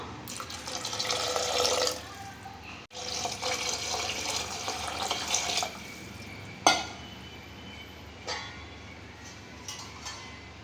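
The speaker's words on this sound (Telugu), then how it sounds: "దీనిలో ఇప్పుడు మనం తగినన్ని వాటర్ యాడ్ చేసుకుందాం" Water poured into a pan of tomato masala, a rushing, splashing pour lasting a couple of seconds, a short gap, then another longer pour, followed by a few drips and clinks.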